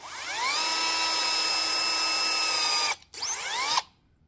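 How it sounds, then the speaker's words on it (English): A power drill boring through a custom-made intake manifold whines steadily at high pitch for about three seconds, cuts out briefly, then spins again and stops abruptly, loud and close with no talking. "finish drilling through"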